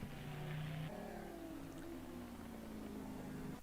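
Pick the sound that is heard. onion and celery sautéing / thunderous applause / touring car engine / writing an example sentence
touring car engine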